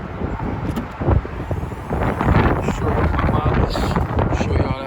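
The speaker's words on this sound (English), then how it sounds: "It's windy out here today." Wind buffets the microphone in loud, rumbling gusts, roaring and fluttering up close, with a voice faintly present beneath the noise.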